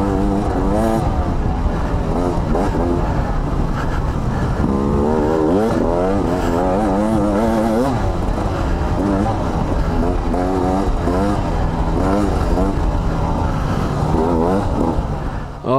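A 2020 Beta 300RR Race Edition two-stroke dirt bike ridden hard off-road, its engine revving and bogging continuously throughout, loud and close with rapid pitch swings as the throttle opens and closes over rough, rutted ground.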